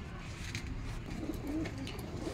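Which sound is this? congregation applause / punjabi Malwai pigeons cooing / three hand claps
punjabi Malwai pigeons cooing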